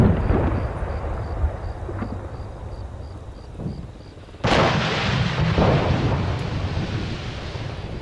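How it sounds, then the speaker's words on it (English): Arma 3 rocket artillery pounding enemy positions: a low rolling rumble with scattered distant thumps, then one sudden loud, close blast near the midpoint followed by sustained booming roar. "So it's continuing to pound these positions."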